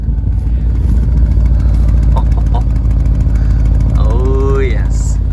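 A 2021 Audi RS Q8 engine idles loudly with a continuous low rumble, and a person speaks briefly over it near the end.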